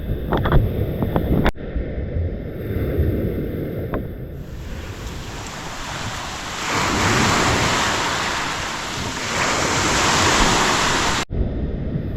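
Steady broadband rush of high-tide surf with wind on a Romblon shore, swelling louder midway and holding for several seconds before easing; no talking.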